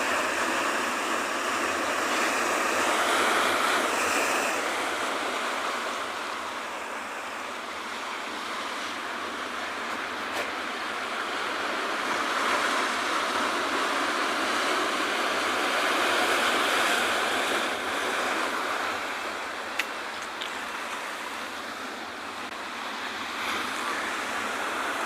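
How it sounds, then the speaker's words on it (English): Ocean surf rolls steadily onto a penguin beach while an offshore breeze blows, a constant loud wash of breaking waves and wind with no voices. "The ocean is looking stunning today with the offshore breeze."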